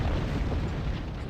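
Explosions in the space combat game Star Trek Online, a dense, rumbling low blast that sustains loudly throughout with no speech.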